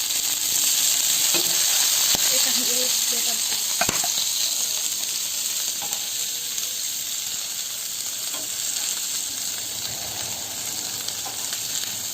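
Chicken pieces fry and brown in a pan for homemade chicken pakora, giving a steady close sizzle that runs throughout, with a few faint clinks and stirring scrapes.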